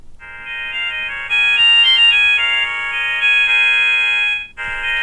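A cheap Amazon smartwatch plays its fourth notification tone, a loud, bright electronic melody of sustained beeping notes that shifts pitch in steps, pauses briefly near the end, then resumes.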